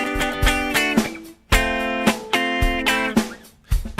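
Electric guitar plays a chugging riff against a beat, with bright repeated chord stabs, short rests and sharp percussive hits across four seconds.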